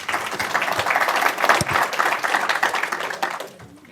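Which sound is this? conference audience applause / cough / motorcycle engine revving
conference audience applause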